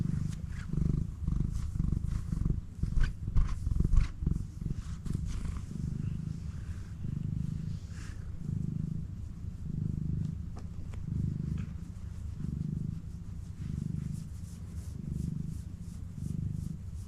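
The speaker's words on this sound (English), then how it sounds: "Your purr is so loud, sweetie." Loud, close cat purring in a steady rhythmic rumble, with some soft handling noise at the start.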